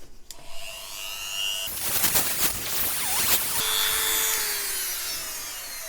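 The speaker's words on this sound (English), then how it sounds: "here we go with the grinding wheel of the Dremel" A Dremel rotary tool's grinding wheel works against a SOG PowerPint blade held in a vise, giving a steady, close, abrasive grinding rasp for several seconds after a brief motor whine, with no talking.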